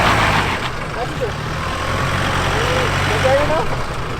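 A small four-cylinder Duramax diesel truck idles with a low, steady rumble at close range while people talk over it.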